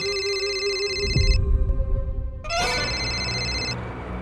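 A phone rings indoors in a tense crime drama scene, a repeating electronic ringtone with steady harmonic tones that stops briefly and then sounds again, moderately loud with no talking.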